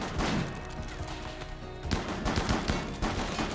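Turrets in RimWorld fire rapid bursts of gunshots, dense and loud, with a short lull before another volley of sharp cracks. No talk is heard.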